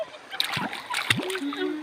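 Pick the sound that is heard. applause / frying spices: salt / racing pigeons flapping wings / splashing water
splashing water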